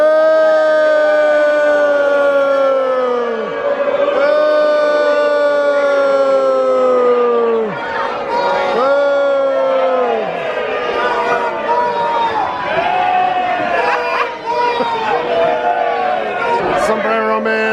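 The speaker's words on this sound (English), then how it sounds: "Everyone's booing a Patriots fan coming through here." Fans at a Tampa Bay Buccaneers training camp boo a passing Patriots fan, loud drawn-out boos with falling pitch repeating every couple of seconds, surrounded by open-air crowd chatter.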